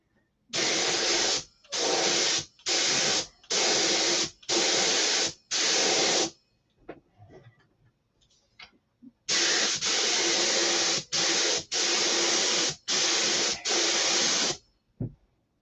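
A spray gun applying paint to the leading edge of an aircraft stabilizer in bursts: six short hissing sprays, a quiet gap, then six more, each lasting about a second, sharp and close.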